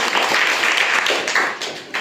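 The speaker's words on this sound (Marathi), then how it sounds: "प्राचीसाठी सगळ्यांना टाळ्या वाजवायचं" A group of schoolchildren at a primary school quiz event applauds, a steady wash of clapping from many hands that holds throughout and dips briefly near the end.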